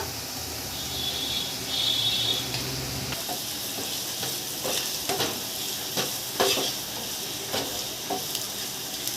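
Carrots fry with chili powder and garam masala for a leftover-rice breakfast, crackling hard as a spoon repeatedly scrapes and taps the pan in uneven strokes over a constant close hiss. No voices are heard.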